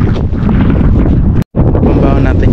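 Heavy wind roars across the microphone at a lakeside trout-fishing spot, steady and close with a brief dropout midway, voices partly buried in the gusts.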